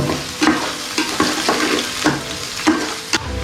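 Chili and onion fry in a pan, a continuous crackling sizzle broken by rhythmic scrapes and knocks as a spatula stirs them roughly every half second, close and moderately loud with no voices.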